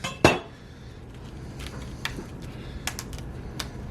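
A kitchen knife slices a vegetable on both sides to cut its hard stem out in a V, giving one sharp, loud clack against the board followed by faint, scattered taps and light clicks.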